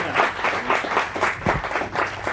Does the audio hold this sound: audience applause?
yes